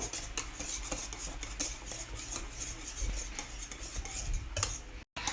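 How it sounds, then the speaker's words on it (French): Utensil stirring no-bake chocolate fridge cake mixture in a bowl, with steady scraping and clinking strokes repeating close by for several seconds and a brief cutoff near the end. "On va bien les mélanger."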